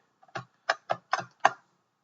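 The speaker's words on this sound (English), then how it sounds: "So we're going to press enter on the keyboard." Five crisp, close key taps on a computer keyboard come in an uneven rhythm over two seconds, each a short, distinct click against near silence.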